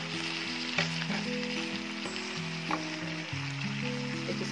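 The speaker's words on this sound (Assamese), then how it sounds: "এতিয়া লৰাই দিম ভালকৈ" Pork and mustard greens sizzle steadily in a pan, a continuous frying crackle broken by a few scraping stirs of the spatula, close and fairly loud with no talk.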